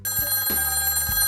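At a hotel reception desk, a telephone rings in short repeated electronic trills, loud and close, with no one speaking over it.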